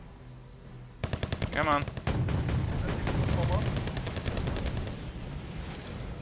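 Rapid gunfire from tank and infantry weapons in the strategy game Wargame Red Dragon, a dense run of loud shots, with bursts near the start settling into a continuous rumbling barrage, while someone speaks briefly over it.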